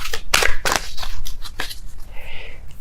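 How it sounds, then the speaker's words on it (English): Tarot cards being shuffled by hand, heard as a few loud, close riffling and snapping bursts followed by softer rustling. "I'm going to be shuffling until I have a popping card here."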